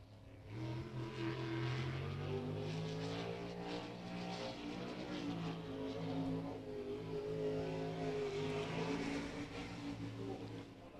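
A race car laps Beckley Motor Speedway during qualifying for the Cowboy Classic, its engine a sustained droning roar that rises and falls in pitch through the turns, heard from a distance at moderate level.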